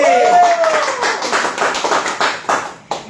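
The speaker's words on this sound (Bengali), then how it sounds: "বড় হাততালি" A live raffle draw audience breaks into applause, a dense burst of clapping that slowly thins into scattered individual claps, with a voice speaking over the start.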